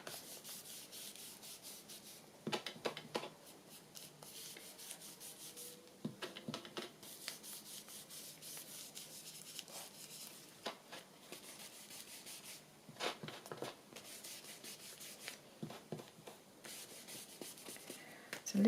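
Peach colour rubbed around the edge of a journal page, soft dry scuffing strokes in repeated bursts with quiet pauses between them, close and faint.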